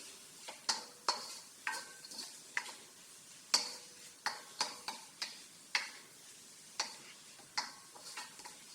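Onions and garlic sautéing in a pan for meat pie filling: a faint background sizzle broken by about a dozen sharp clicks and scrapes of a utensil stirring against the pan, spaced irregularly, with no talking.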